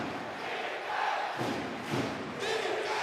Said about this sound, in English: that really gets the crowd rocking and rolling again